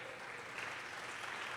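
Church congregation applauding during a worship service, a steady, dense wash of clapping from many hands that holds at an even level throughout.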